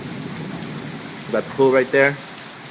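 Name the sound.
rain falling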